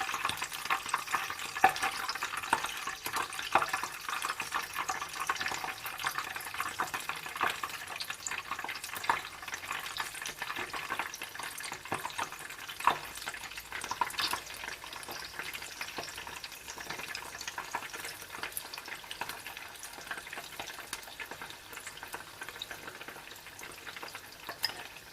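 Chicken pieces for sweet chilli chicken fry in oil over a medium flame, a steady, moderately quiet sizzle with crackling pops throughout and no speech.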